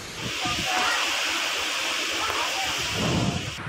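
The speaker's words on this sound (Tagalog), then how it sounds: "Tuloy-tuloy na buhos ng ulan" Heavy typhoon rain pours steadily with a dense roaring hiss, driven by strong gusting wind that swells louder toward the end, in Catanduanes, Philippines.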